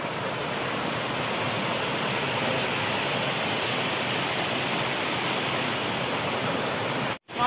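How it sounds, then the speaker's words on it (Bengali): A mountain waterfall pours in an unbroken, even rushing roar from nearby, cutting out for a moment near the end. "আর এই যে হলো ঝর্ণা, পাহাড়ি ঝর্ণা।"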